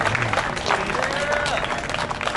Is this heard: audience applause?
yes